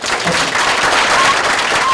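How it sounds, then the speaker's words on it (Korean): Dense, steady applause from a seated audience welcoming a lecturer to a health talk, sustained and fairly loud throughout with no clear voices on top. "열렬한 박수로 환영해 주시기 바랍니다."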